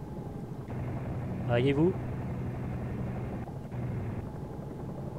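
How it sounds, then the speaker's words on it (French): A helicopter in the X-Plane flight simulator drones in a steady, low rotor hum, moderately loud, with someone speaking French briefly over it. "L'hélicoptère est stabilisé."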